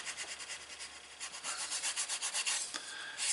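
Cheap 320-grit sandpaper rubs along the edge of a leather card wallet in quick, close back-and-forth strokes, quiet but steady, with no voices.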